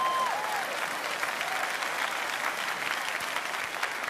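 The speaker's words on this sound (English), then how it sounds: "That's a good clapping point right there." A large audience at a leadership sermon applauds steadily, a dense continuous wash of clapping from start to finish.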